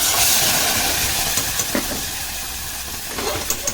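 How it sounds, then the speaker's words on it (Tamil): Ground masala paste sautéing in a hot pan for a lobia (black-eyed pea) curry, a loud steamy hiss at first that eases into a steady sizzle with occasional spatters, no one speaking. "இந்த விழுதை மொத்தம் நம்ம இதில் சேர்த்துக்கலாம் இது ஒரு ரெண்டு நிமிஷம் போல் வதக்கிக்கோங்க"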